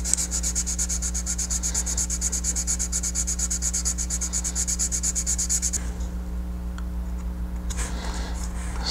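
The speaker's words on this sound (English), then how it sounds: "Moved over to the Squadron sanding sticks" Squadron sanding sticks rubbing on a plastic Revell 1932 Ford Coupe model car body, a steady rapid back-and-forth scraping close up for about six seconds, then brief lighter strokes with a low hum underneath.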